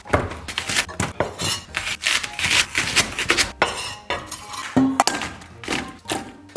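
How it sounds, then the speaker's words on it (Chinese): A kitchen knife chops scallions into long pieces on a cutting board, a fast run of sharp, close taps with brief pauses between bursts, no talking. "接下来咱们把葱给它切成长长的小段儿"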